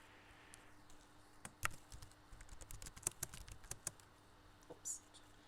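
Someone types into an Excel worksheet cell on a computer keyboard, producing close, quiet, irregular key clicks in short bursts.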